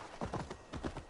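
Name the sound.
horse hooves clip-clopping, from the video game Assassin's Creed Valhalla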